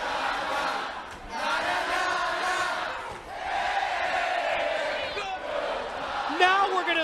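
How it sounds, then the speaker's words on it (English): Wrestling arena crowd at a Hard Justice event roaring, cheering and jeering as Scott Steiner leaves, a loud, continuous mass of shouting voices with swelling whoops and yells, a commentator's voice riding over the din. "Listen to the crowd send off Scott Steiner, and he can't believe it."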